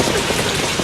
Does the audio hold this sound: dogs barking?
no